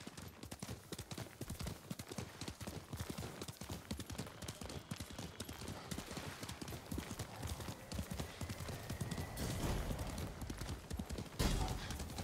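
A horse gallops in the Ghost of Tsushima video game, its rapid hoofbeats drumming steadily and close, with game ambience and faint clashes around them and a louder surge toward the end.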